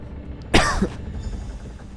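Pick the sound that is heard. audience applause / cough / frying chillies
cough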